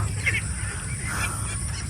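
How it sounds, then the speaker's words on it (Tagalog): Geese honking in short nasal calls at a duck farm, over a steady outdoor background, fairly close, with no talking. "nag-iingay yung gansa pag may tao dito"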